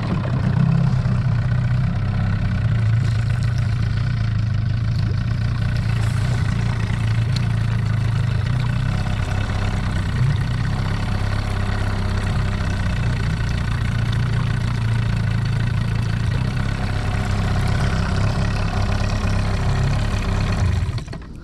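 An outboard boat motor idles steadily near a windy shoreline, giving a continuous close low rumble with an even drone throughout and no voices.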